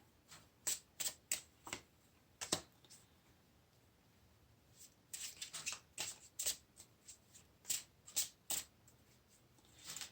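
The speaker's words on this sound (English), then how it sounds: "Let's pull some cards here." Tarot cards are shuffled and pulled during a pick-a-card reading: quick, crisp riffling bursts in close clusters, then a pause and a second run of snappy shuffles, with no voice.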